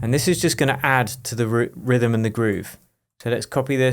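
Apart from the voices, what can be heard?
No distinct noise like a dog, phone or traffic.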